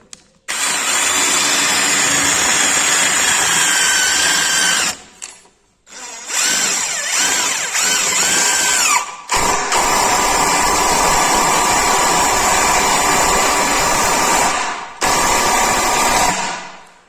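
A Hychika cordless impact drill (350 Nm, 4 Ah battery) drives a screw into hard wood, whining and hammering loudly up close in long bursts separated by brief pauses.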